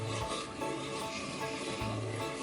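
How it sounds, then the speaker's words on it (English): Blended hot pepper sauce being stirred in a pot over medium heat, a steady rubbing, scraping sound of a spoon against the pot with rhythmic strokes, close and alone. "Now we're stirring it now."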